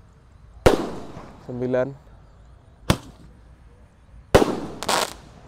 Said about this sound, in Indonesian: Menyalakan banyak sekali mercon, petasan dan kembang api spesial menyambut Ramadan